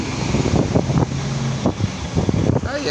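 Seaside wind gusting into the microphone, a low rumbling buffet that rises and falls, with faint voices and sounds of the surroundings mixed underneath.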